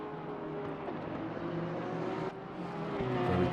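GT3 race cars, a BMW and a Porsche, racing at Zolder in Assetto Corsa Competizione, with a steady droning engine note that climbs as the cars accelerate and shift gears close by.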